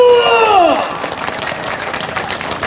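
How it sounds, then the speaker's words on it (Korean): Crowd applause at a political rally in Seosan, a dense wash of clapping that swells in as a speaker's voice trails off and then carries on steadily, with cheering voices mixed in. "박수!"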